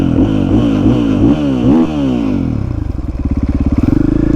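An XR80 motorcycle with a KTM power bundle revs loudly up and down in quick repeated blips, then settles into a throbbing, pulsing idle close by.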